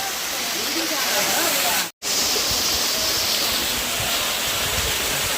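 Talakona waterfall roars as a dense, constant wash of rushing water close by, loud and unbroken apart from one brief cut.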